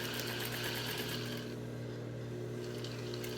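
A sewing machine stitches a straight line on a dress bodice, running continuously as a steady, close mechanical whir that stays even throughout with no talk.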